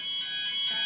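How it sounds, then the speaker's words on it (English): A fire alarm sounds during a test at a manufacturing site, a steady, loud electronic tone ringing continuously and alone for under a second. "I think that is the fire alarm test."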